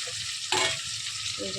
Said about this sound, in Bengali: তিন পিস মাছ আছে মাছ তিনটে ভেজে রাখছি